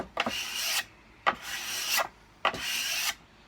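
Three slow, even strokes of a cabinet scraper removing finish from a wooden guitar, each a dry rasping pass with a short pause between, close and fairly quiet.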